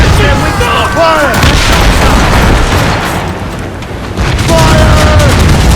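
Ship cannons fire in the Assassin's Creed Rogue naval battle, a dense run of loud booms and blasts over continuous sea and battle noise, with crew shouts heard over the barrage.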